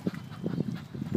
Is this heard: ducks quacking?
yes